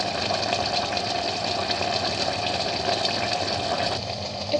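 Water bubbling away in a kazan of plov with pork ribs and garlic, a steady close hiss and simmering rush that holds evenly throughout with no voices.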